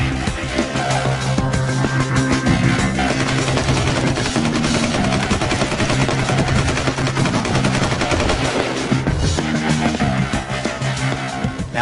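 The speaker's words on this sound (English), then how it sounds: "A simple shake, and boom, I was right down range firing rounds." Sustained, rapid automatic gunfire from an HK416 rifle after it was buried in sand, loud and close, with dense overlapping bursts running the whole time and no talking.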